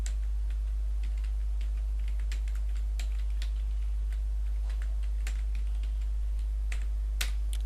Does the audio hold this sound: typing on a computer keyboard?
yes